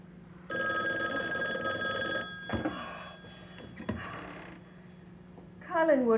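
A telephone in a house rings with a steady electronic trill lasting about two seconds, followed by quieter knocking sounds and a voice starting up at the end.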